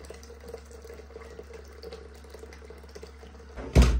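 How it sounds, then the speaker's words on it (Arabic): Hot water is poured into a pot during home cooking, a brief, loud splashing rush at the very end after a stretch of low, steady kitchen hum. "زيد الماء السخون"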